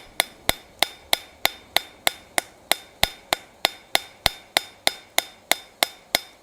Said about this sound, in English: You want to be fairly accurate with your hammer blows if you're going to texture.